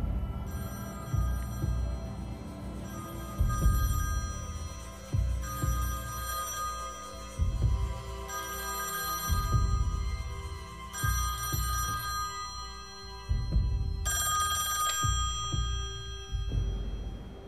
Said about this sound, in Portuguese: E o telefone tocou.